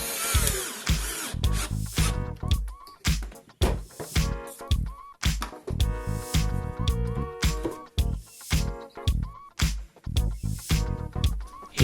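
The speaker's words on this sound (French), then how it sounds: "Je visse ces morceaux de bois sur les poteaux." A power drill drives screws through wooden pieces into bamboo posts for an outdoor tiki bar, with repeated short whirring bursts and clicking pauses between them, close and loud.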